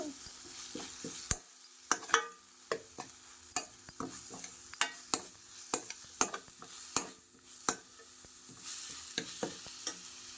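Curry leaves and masala fry in a pan for a kaju makhana curry, a steady sizzle broken by frequent sharp clicks and scrapes of a spoon stirring against the metal, close and fairly quiet, with no talking.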